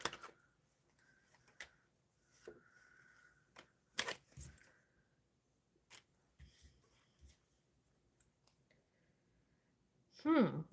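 Tarot cards are shuffled in several separate bursts of soft riffling and clicking, close and fairly quiet, with pauses between them and a voice speaking briefly near the end.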